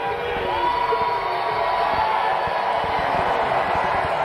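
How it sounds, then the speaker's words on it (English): A packed-house crowd of NASCAR Cup Series fans at Gateway cheering loudly and continuously, a dense roar of shouts and whoops filling the whole stretch. "That's got to feel so good with these fans, packed house, cheering for you like that"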